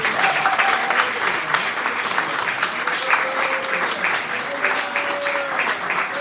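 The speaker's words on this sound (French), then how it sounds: "je voudrais que tu applaudisses l'Éternel des armées." A church congregation breaks into sustained applause, steady and dense from start to finish, with a faint sustained tone running underneath.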